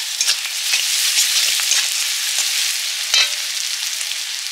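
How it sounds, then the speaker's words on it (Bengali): Onion and garlic paste frying in hot oil for a prawn malai curry, a loud continuous hiss and crackle close by, with scattered pops and stirring scrapes throughout. "তেল দিয়ে পেঁয়াজটা দিয়ে দিলাম, রসুন বাটা"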